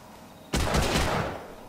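A loud, sudden burst of gunfire in Hidden & Dangerous 2, starting abruptly, holding as a dense rattle for under a second, then tailing off into echo.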